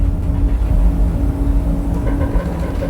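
Heavy ferry engines on the overnight Aberdeen to Shetland crossing make a loud, steady low rumble with a constant hum and no break, as if heard from a cabin close above the engine room.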